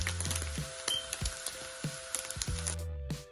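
Chicken adobo sizzles as it fries in olive oil in a pan, with soft, steady crackling and scattered pops and clicks at low volume, and no voices.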